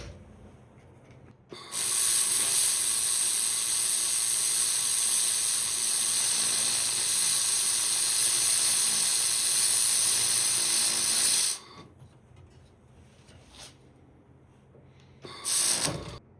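An Xlaserlab X1 PRO laser welder with wire feed, used on a shop wood stove, lets out a steady loud hiss that runs for about ten seconds and then cuts off, followed a few seconds later by a second short burst.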